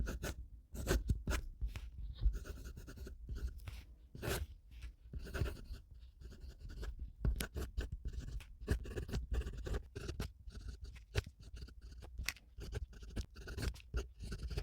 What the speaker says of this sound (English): Let's get it ready and do the very first writing sample with each paper.